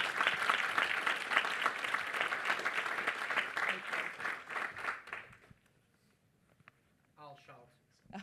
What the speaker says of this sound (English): really big round of applause